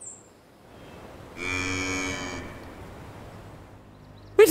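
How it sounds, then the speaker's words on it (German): A single loud cow moo from a lawn mowing simulator video game, one sustained low call of about a second, standing alone over quiet background sound. "Ist auch noch eine Kuh?"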